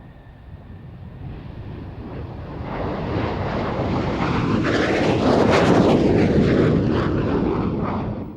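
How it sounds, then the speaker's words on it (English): French Air Force SEPECAT Jaguar jets flying in close formation at an air show pass overhead, their roar swelling from a distant rumble to a loud, harsh whoosh with a sweeping pitch, then easing slightly as they move away. "F-894 was also treated to some close formation flying by the French Air Force Jaguars"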